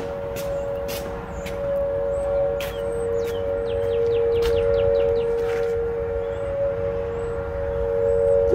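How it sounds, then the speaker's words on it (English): A steady wailing storm warning siren in Tulsa, Oklahoma drones on throughout, with birds chirping and calling over it. "Listen. Tulsa, Oklahoma. Storm sirens."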